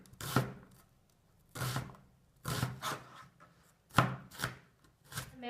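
Knife roughly chopping garlic and onions on a wooden cutting board, about seven sharp, close knocks in loose irregular bursts with brief pauses between them.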